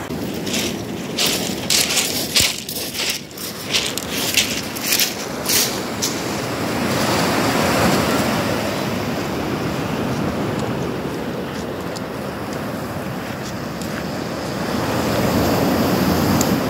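Sea waves washing onto a northern French shore, a steady broad surf rush with wind noise, a few sharp clicks and bumps early on, and the waves swelling louder toward the end, with no talking.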